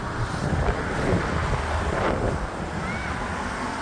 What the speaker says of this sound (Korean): 바람이 세게 불었어.